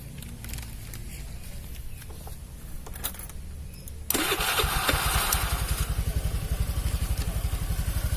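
A Honda Vario 110 scooter, brought in after its battery suddenly dropped and the engine stalled, cranks once and fires up, then settles into a steady, close, loud idle after a few quiet clicks and handling noises.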